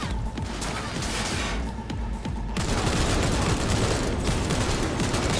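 Dense gunfire in Cyberpunk 2077, rapid overlapping shots and booms in a continuous loud barrage, close and without talk.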